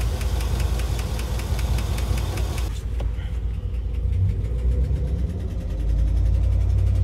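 A rough-running engine with noisy lifters idles loudly, a rapid, steady ticking clatter layered over its low rumble; no one speaks.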